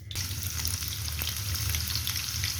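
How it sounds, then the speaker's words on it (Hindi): Onions sizzle and fry steadily in hot oil for a mushroom masala curry, a close, continuous crackling hiss with no talk over it. "ऑयल गर्म हो चुका है, तो इसके अंदर मैंने प्याज जो है ऐड कर दिए हैं"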